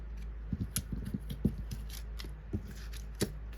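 Scissors snipping through a sheet of vellum in quick, crisp close-up cuts, a burst of several rapid snips followed by a few isolated ones.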